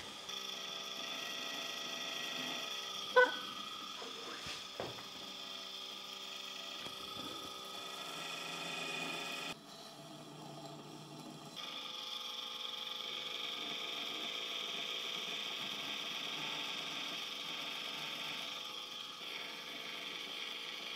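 A tiny pottery wheel runs with a steady mechanical whir and faint ratcheting, gear-like texture, plus a few light clicks and knocks early on and a brief dip in the middle.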